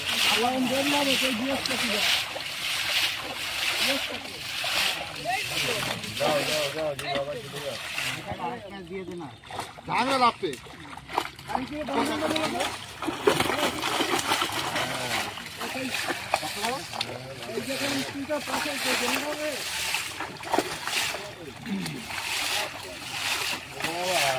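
Rohu fish thrash and splash in water with repeated wet slaps and sloshing close by, while people talk over the commotion.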